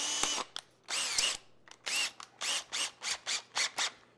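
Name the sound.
power drill drilling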